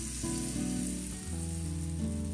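Butter melting and sizzling on an electric griddle heated to about 150 °C, a steady close hiss that runs the whole time with a tonal hum beneath it.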